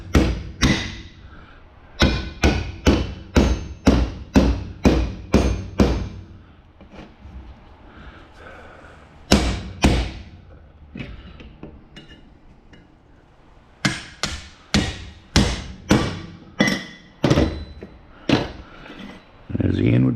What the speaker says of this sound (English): Then you just pound down until you break them welds.